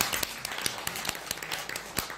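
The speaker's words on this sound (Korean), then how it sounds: "여러분 박수 안 치십니까?" Scattered audience clapping during a lecture, a few sharp, uneven claps with gaps between them, fairly faint and thin rather than a full round of applause.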